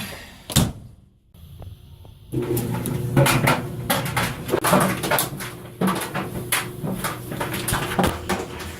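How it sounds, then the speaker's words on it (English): USB drives tumble in a running clothes dryer, making a loud, steady drum rumble broken by irregular clunks and rattles as they knock against the drum. The clip opens with a few sharp knocks and a brief quiet gap. "One round in the dryer."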